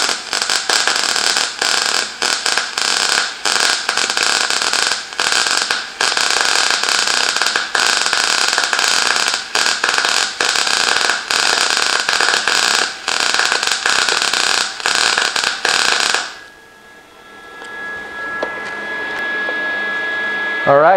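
A TIG/MIG welding machine runs a bead with a steady, loud, dense buzzing hiss for about sixteen seconds, then cuts off, leaving a faint hum and a thin lingering tone.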